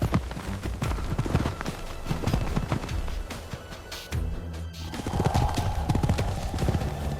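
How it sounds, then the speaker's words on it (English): A stallion's heavy hooves pound dry savannah earth in loud, rhythmic clip-clop bursts, close and forceful, with a brief whinny and scuffling dust amid the charge. "Rhythmic, heavy hooves crack the dry earth loudly."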